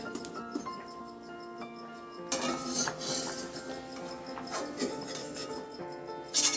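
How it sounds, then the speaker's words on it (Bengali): A metal spatula clinks and scrapes against a pan as fried eggplant is lifted out in a home kitchen: a run of light, close clatters with a louder cluster of knocks near the end, and no voices. "এই যে বেগুন ভাজাটা এখন তুলে নিচ্ছি"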